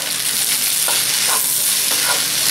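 Chicken pasta with spinach is stirred in a hot pan: loud sizzling frying runs continuously, with several scraping strokes of the utensil through the food.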